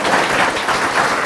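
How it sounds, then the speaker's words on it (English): Steady, dense applause from a class audience at a tax lecture, filling the whole moment at an even, fairly loud level with no speech over it. "Where is the grand clap?"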